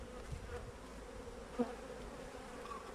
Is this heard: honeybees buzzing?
yes